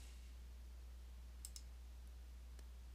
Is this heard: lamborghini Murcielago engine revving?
no